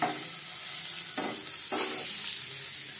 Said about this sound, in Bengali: লবণ হলুদ দিয়ে ডিম ভেজে নেব।